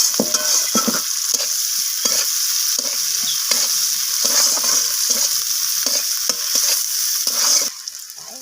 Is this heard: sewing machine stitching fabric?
no